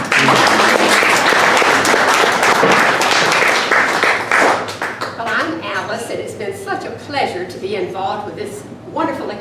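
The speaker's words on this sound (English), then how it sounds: "Let's give them another round of applause." Applause from a seated audience at a 101st birthday celebration following a musical duet, loud and dense at first, then thinning into scattered claps as voices begin talking over it.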